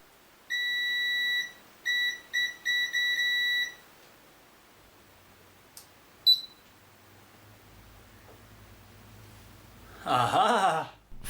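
A Hot Tools HT710 flat iron, repaired after a thermal fuse replacement, gives a series of short electronic beeps at power-on, clear and close in a quiet room, followed by faint handling clicks and a brief rustle.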